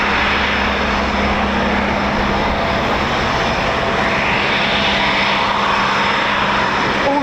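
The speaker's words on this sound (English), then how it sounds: "And that, my friends, is the Eurofighter Typhoon." A Eurofighter Typhoon FGR4 fighter jet flying during training at RAF Coningsby, a loud continuous engine roar that holds steady and swells slightly toward the end.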